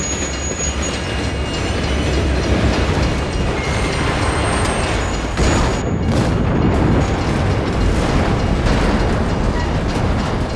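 Loud, continuous train roar with rattling wheels and a rumbling low end, a brief hiss or squeal burst partway through, during a head-on train collision.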